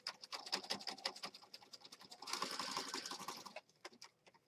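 A sewing machine stitches pages of a junk journal in rapid mechanical bursts, with a louder, denser run near the middle before it slows to a few separate needle strokes and stops.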